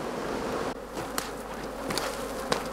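Honey bees buzz around beehives, a dense continuous hum of many insects close by, with brief louder passes as individual bees fly near, no voices.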